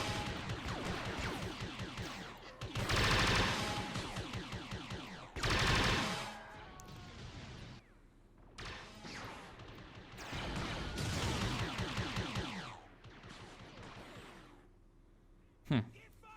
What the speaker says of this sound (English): There's a few Stormtroopers back here firing.